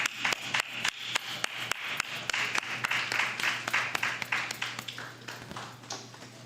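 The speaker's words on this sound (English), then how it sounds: "let us give them a round of applause" An audience at a library book presentation claps for students standing to be recognized, with quick, scattered claps building into steady applause at moderate distance that thins out toward the end.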